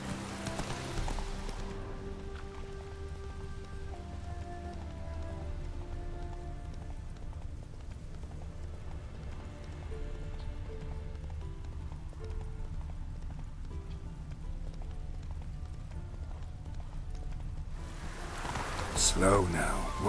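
Roach the horse's hooves clip-clop steadily through most of a Witcher 3: Wild Hunt scene, with ambient game music and a soft rain-like wash beneath, until a brief louder burst of noise at the end.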